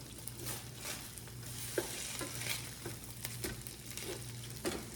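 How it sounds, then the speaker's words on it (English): Salisbury steak patties fry in a pan with a continuous close sizzle, as spatula scrapes and taps sound during flipping. "Now we're going to flip them over. Brown the other side."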